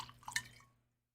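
Scotch being poured into a glass: a short, faint liquid trickle with a few drip-like plinks, fading to silence within a second.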